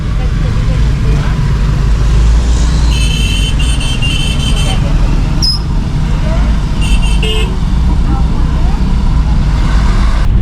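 Buses and cars passing on a ghat road in a steady loud stream of traffic, with engine rumble throughout and several horn toots near the middle and again later, people talking beneath the noise.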